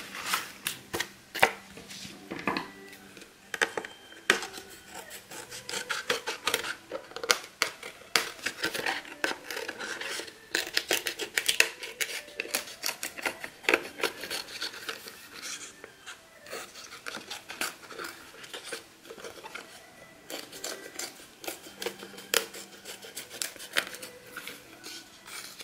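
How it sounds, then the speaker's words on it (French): Scissors snipping through paper to cut out circles for a handmade recycled photo album, a steady run of close, crisp clicks and rasping cuts with small clatters, no talking. "Découper tous nos cercles."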